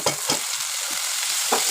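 Ground onion paste fries in a pan for egg kurma, giving a loud, steady sizzle. Scraping stirs cut through it at irregular moments, close up, with no voices.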